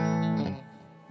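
A vintage maple-neck Stratocaster electric guitar rings out a clean, twangy chord that sustains briefly and then fades away, with a touch of reverb and no talking.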